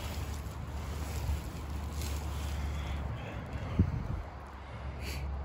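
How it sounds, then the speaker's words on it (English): Strong wind blows steadily outdoors beside a hammock camp, a continuous low rumble and buffeting against the microphone with gusts rising and falling and one brief thump near the end. "the wind's whipping pretty good"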